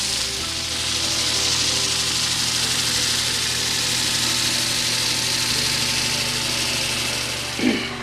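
A mesquite bowl spinning on a wood lathe while 320-grit sandpaper is pressed against it: a steady motor hum and droning rumble with a faint sanding hiss, and a brief louder scrape near the end.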